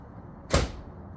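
An AVS air door popper on a right-hand-drive Y32 Nissan Gloria/Cedric with a VG30DET engine fires once, a short sharp pneumatic burst that swells and fades within about a quarter second, fairly close and alone.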